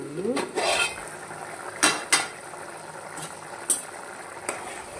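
A metal lid set onto a cooking pot of simmering potato curry, several sharp clanks and clinks spread over a few seconds against a soft bubbling background, close and fairly loud.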